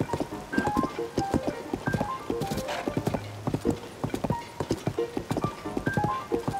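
Horse hooves clip-clopping in Zelda: Tears of the Kingdom, a steady rhythmic trot of clear close hoofbeats with a brief whinny partway through, no talking.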